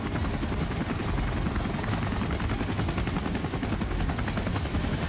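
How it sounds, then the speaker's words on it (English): Military helicopters, a CH-47D Chinook escorted by two AH-64D Apache attack helicopters, fly past at a national day parade, a loud, dense rotor roar with rapid chopping that stays powerful throughout. "the CH-47D Chinook, escorted by two AH-64D Apache attack helicopters"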